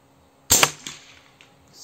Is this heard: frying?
no